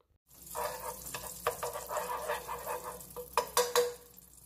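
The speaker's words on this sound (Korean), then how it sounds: "팬에 버터를 녹입니다" Butter melting in a hot frying pan gives a close, steady sizzle and crackle, with a few sharper pops and scrapes from stirring toward the end.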